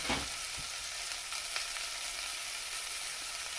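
Chopped turnips with garam masala and turmeric sizzle steadily in a hot frying pan as they are stirred, giving a constant close frying hiss with a few soft scrapes.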